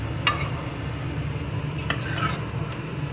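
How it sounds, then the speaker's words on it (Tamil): A spoon stirs brinjal and potato sambar with dal in a pot, giving a few metallic clinks and scrapes over a low, steady background hum. "நல்லா கலக்கி விட்டுருவோம்"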